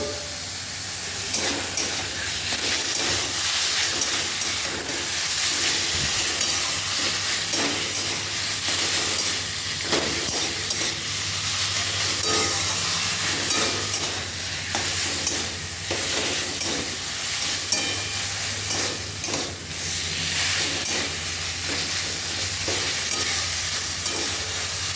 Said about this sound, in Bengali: এবার এর মধ্যে আমি এই ভেজে রাখা আলু আর চিংড়ি মাছটা দিয়ে নিলাম, কারণ এটা দিয়ে এবার একটু কষিয়ে নেব